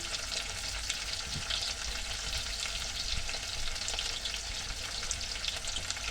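Green chili peppers fry in hot oil in a pan for an Egyptian okra and molokhia dish. A steady, dense sizzle runs throughout with soft stirring scrapes, and no one speaks.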